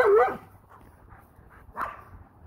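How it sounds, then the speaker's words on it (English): A guard dog gives a loud, close bark followed by softer yips and whimpers, then another sharp bark, with no talk. "he's a very good guard dog"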